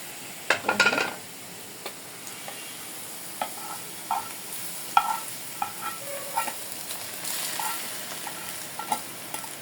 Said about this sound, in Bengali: আমার পেঁয়াজটা ভাজা হয়ে গেছে দিয়ে দেবো শাকের ভিতরে